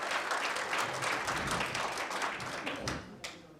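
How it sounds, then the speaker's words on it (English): An audience at a Meadville community genealogy event gives a round of applause, a steady burst of many hands clapping close by that thins out toward the end. "Give yourselves a round of applause for sure."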